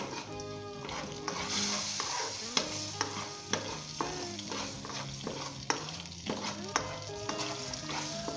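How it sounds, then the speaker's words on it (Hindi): Ingredients for Punjabi pulao with carrots, peas and potatoes fry in a pan over medium-low heat, giving a steady sizzle broken by repeated sharp scrapes and clinks of a spoon stirring against the metal. "1 मिनट के लिए इसे फ्राई कर लें"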